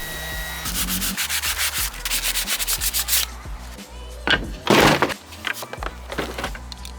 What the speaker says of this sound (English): I wasn't satisfied with my sanding, so I'm doing some more touch-ups.